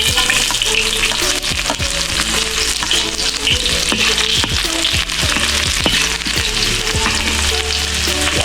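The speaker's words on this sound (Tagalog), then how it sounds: "Wow, deep fry! Chili garlic oil." Onion and garlic deep frying in chili garlic oil, a loud, steady close sizzle and crackle with repeated stirring clinks and scrapes throughout.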